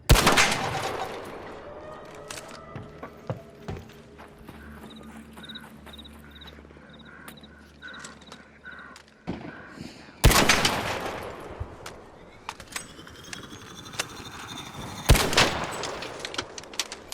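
Gunfire in the video game ARC Raiders aimed at the Surveyor robot: loud bursts of shots with sharp impacts, a quieter stretch of beeping tones, then renewed heavy firing.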